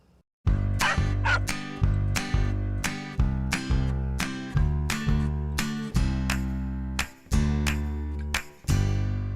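Puppies bark and yip repeatedly in a television news studio, a steady series of sharp, close barks spaced about half a second to a second apart, with no talking over them.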